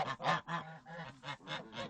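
Domestic geese in a farmyard flock honk in quick, nasal, repeated calls, several overlapping in an uneven rhythm, fairly close and alone.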